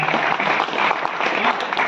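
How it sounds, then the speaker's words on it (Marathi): Dense, steady applause fills a felicitation ceremony at the Charkop RPL cricket tournament final as a crowd claps for More uncle, close and loud throughout with no break. "जोरदार टाळ्या मोरे काकांसाठी सुद्धा"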